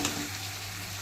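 Spiced masala fries in a pan, a soft steady sizzle with a faint scrape of stirring at the start.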